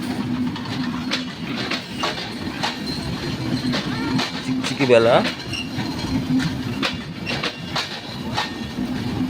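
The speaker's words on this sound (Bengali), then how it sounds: "আন্তনগর ট্রেন উত্তরবঙ্গ থেকে আসছে এটা ঢাকার উদ্দেশ্যে চলে যাবে" An intercity train from North Bengal bound for Dhaka passes a single-line level crossing in Natore in the late afternoon, its steady wheel rumble and clatter running throughout with a brief rising squeal midway, while a person speaks over it.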